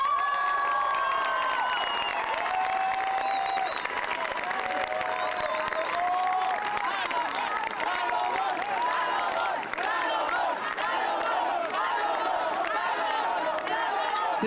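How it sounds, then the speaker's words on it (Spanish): A large crowd welcomes a speaker at a Mexico City political event with loud, sustained applause mixed with cheers, whoops and shouted voices, the roar holding steady throughout. "quiero darle la bienvenida con un fuerte aplauso a Salomón Chertorivsky"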